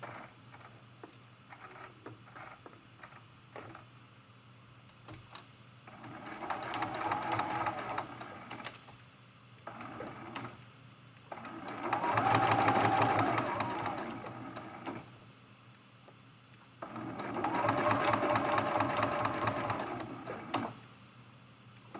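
Short bursts of a domestic sewing machine stitching a hexagon-patterned mug rug, three separate runs each lasting a few seconds with quiet gaps between, close and fairly soft.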